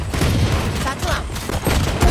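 Raze satchel blast in the shooter game Valorant, heard as dense, booming bursts of explosive gunfire-like noise that fill the whole moment, loud and close, with game sounds layered over it.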